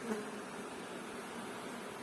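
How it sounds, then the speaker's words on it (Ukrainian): A swarm of honeybees buzzes steadily and continuously at close range throughout, a dense even drone with no talking over it. "Ось такий ройчик у нас получився."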